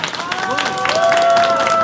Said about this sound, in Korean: 다시 한 번 좋은 공연 해주신 이형준님께 큰 박수 부탁드립니다.